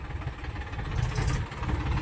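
A tractor that has just been dragged free of thick mud runs at a steady low rumble, close and moderately loud, with no talk over it.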